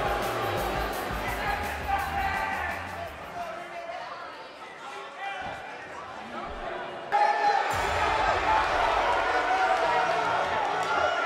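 Arena crowd noise from the WWE 2K18 wrestling game: a steady, dense roar of cheering and chatter that dips slightly mid-way, then surges louder for the final few seconds.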